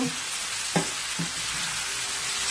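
Mutton sizzles steadily in a pan, with a hot, hissing fry that fills the whole clip. A couple of brief stirring scrapes stand out partway through.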